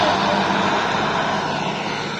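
A tractor ploughs a village field in Assam, its engine a loud, continuous, steady drone close by, with no break in the noise.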